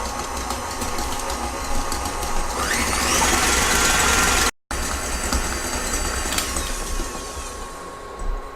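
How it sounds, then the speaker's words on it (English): An electric mixer beats egg whites at medium speed for nougat, a steady close whirring drone with a brief dropout midway and no talking over it. "Take your egg whites and beat it on a medium speed."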